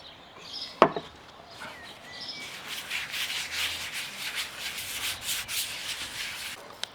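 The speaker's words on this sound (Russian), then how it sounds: "чуть-чуть я смажу доску маслом" Oil being spread across a cutting board before shaping burger patties, a soft continuous rubbing and smearing close by, preceded by a sharp tap or knock, with no talking.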